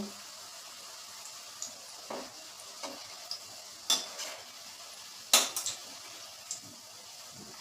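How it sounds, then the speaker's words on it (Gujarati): Bread gulab jamun fry in a pan of hot oil, a soft steady bubbling hiss broken by scattered light clinks and taps of a utensil against the pan. "આ રીતે આપણે બધા ગુલાબજાંબુ તળી લેશું"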